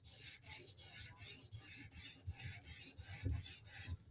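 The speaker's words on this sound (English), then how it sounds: "We're going to do one more quick light burr removal pass." A knife edge drawn across a sharpening stone in a light burr-removal pass, about a dozen even rasping strokes in a steady rhythm, close and clear with no voices.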